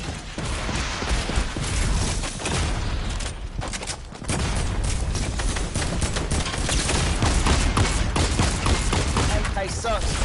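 Continuous, loud AK assault rifle fire in Fortnite, a dense rattling stream of shots lasting the whole stretch with a brief dip in the middle, alone without talk.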